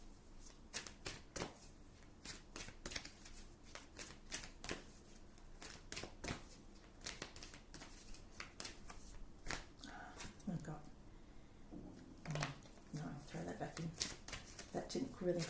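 Tarot cards shuffled close by in a rapid series of crisp riffling and slapping bursts, repeating steadily across the whole stretch with a soft low murmur beneath.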